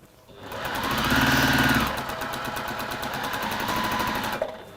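A sewing machine runs steadily as it stitches fabric, with a loud, fast mechanical hum that holds close for several seconds. It eases slightly midway and then stops near the end.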